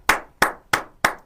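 Four sharp, evenly spaced hand claps from one person, close and loud, with a short gap between each and no talk.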